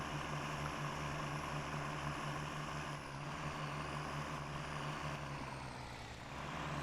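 Heavy truck engine in Snowrunner grinding out of a mud pit, a constant low droning rumble with a slight dip in power midway, steady and fairly quiet.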